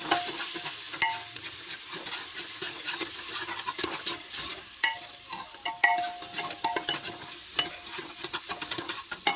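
Rice with turmeric being stirred in a frying pot, a steady crackling sizzle with repeated scraping and clattering strokes of the spoon throughout, close and moderately loud.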